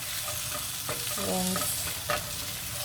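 A spoon stirs a matar paneer mixture of tomato and onion in a hot pan with no added oil, scraping and sizzling close up, alone and without talk.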